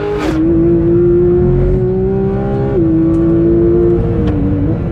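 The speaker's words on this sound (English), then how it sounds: "it's just such a machine, this engine. Not only does it sound utterly incredible" A loud 2021 Porsche 911 GT3 (992) engine on a track holds a steady high rev, with a few quick dips and shifts in pitch, continuous and close throughout.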